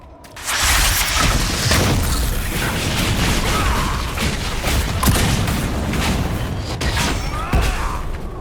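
Fire mine explosions in Dragon Age Inquisition go off as a dense run of booming, crackling blasts, loud and continuous for about eight seconds with sharp bursts layered over a rumbling low end.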